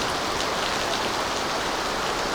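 Heavy typhoon rain pours down steadily in Barangay Lunoy, a dense, loud hiss of drops hitting surfaces with no pauses.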